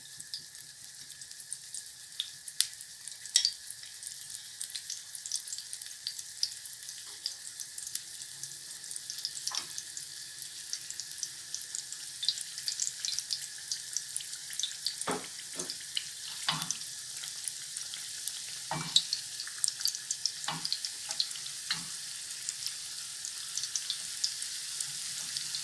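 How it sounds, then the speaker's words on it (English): Poli, a South African Indian Diwali snack, frying in oil on a stove at moderate heat, a steady close hiss and sizzle with occasional sharper pops and clinks running throughout, no talking. "I'm just going to fry a few."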